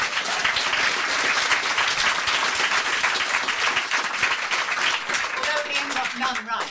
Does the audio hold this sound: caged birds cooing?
no